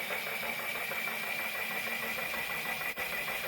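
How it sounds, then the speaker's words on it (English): A small 3000 RPM N20 DC motor drives a 3D-printed compass magnet motor armature holding columns of N52 neodymium magnets, giving a steady, continuous mechanical whir with a fine, even buzz that holds throughout. "A 3000 RPM N20 DC motor spins the armature by pushing against the pod."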